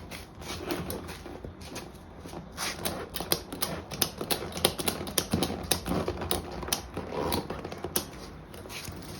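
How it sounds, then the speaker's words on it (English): A ratchet clicks rapidly and steadily while a strap is tightened around a tire to reseat its bead, close and continuous throughout. "And I literally just start ratcheting so it's fairly tight on there."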